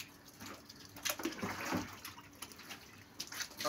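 Water pours and splashes during washing and scrubbing, in uneven bursts and gurgles with quieter gaps between, faint and close, with no one talking.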